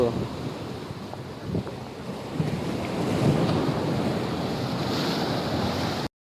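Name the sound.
sea waves at Murudeswar beach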